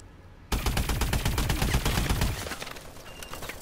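Dense automatic gunfire and rapid shots from a Call of Duty: Advanced Warfare multiplayer match burst in loud and close, a continuous crackling barrage that eases into lighter, scattered fire after a couple of seconds.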